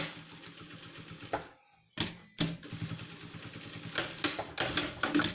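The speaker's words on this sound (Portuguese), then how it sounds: "E agora, eu vou passar uma costura reta." A sewing machine runs a straight seam on a fabric owl-shaped zippered pouch, a rapid close mechanical chatter in bursts, stopping briefly near the middle before resuming for several more runs.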